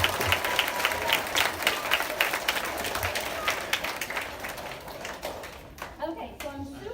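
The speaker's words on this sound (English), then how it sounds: "please give them a round of applause" A school audience at an elementary school assembly breaks into sustained, dense applause, many hands clapping together loudly and close by, thinning and fading toward the end with a few scattered claps and faint voices.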